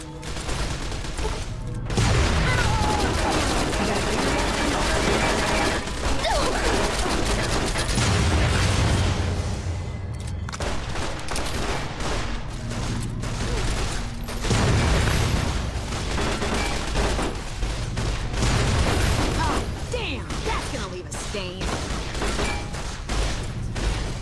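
Sustained gunfire and booming blasts from the video game Fallout: New Vegas keep up a dense barrage of overlapping shots and explosions that stays loud and continuous throughout.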